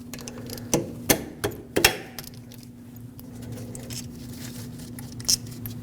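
A ratchet or wrench clicks and clanks while loosening the 14mm caliper bolts on a Lexus IS250's front brakes, a few sharp metallic ticks close by over a faint steady hum.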